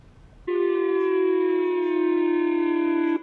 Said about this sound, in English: This alert with the sirens and that announcement spread through the Japanese island of Hokkaido